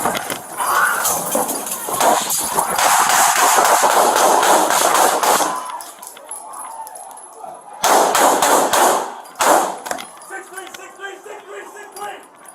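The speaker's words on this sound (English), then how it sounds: "63 shots fired." A police use-of-force incident with many shots fired in rapid bursts, a long volley followed by a pause and further clusters of shots, loud and close, with shouting voices mixed in.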